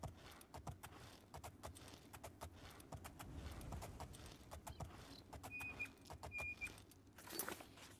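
Hooves clip-clop in a quick, uneven rhythm at moderate distance, with faint jingling and a couple of brief electronic tones over quiet background noise.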